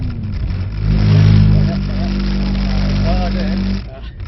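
A Mercedes-AMG 63 engine swells into a hard burst of acceleration on a driving circuit, a loud, steady close-up roar that peaks early, holds, then eases off, with a driving instructor speaking over it.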